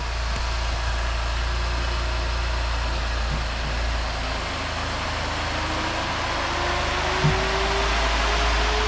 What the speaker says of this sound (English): we're all ready to fire it up and go for the first drive. So start it up.